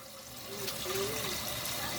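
Water fills a pot for shrimp sinigang as a soft, steady stream with a rising gurgle, quiet and close, with a little talk in the background.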